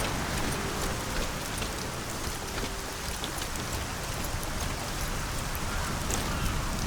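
Steady rain falls in the fantasy video game Arcania - Gothic 4, a dense, even hiss of drops with scattered brighter patters and no voices.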